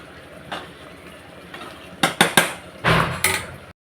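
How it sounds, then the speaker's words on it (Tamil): A spoon scrapes and clanks against a pot while mushroom biryani with garam masala is sautéed, several sharp metallic knocks and scrapes in quick succession near the end before sudden silence. "இப்போது கரம் மசாலா அதையும் போட்டு நல்லா வதக்கலாம்"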